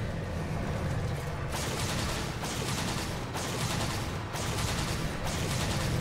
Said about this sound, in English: All those little ding noises that are hitting, that's the amount of times that shots are lining through.